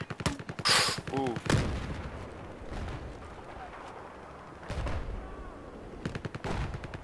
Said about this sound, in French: J'ai fait le mortier avec mon lance-boule, j'ai fait un kill !